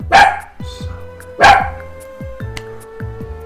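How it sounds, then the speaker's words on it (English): Several dogs bark next door in sharp, repeated bursts, a couple of loud close barks followed by a run of quicker, fainter yips and barks, with no talking over them. "There's dogs barking next door"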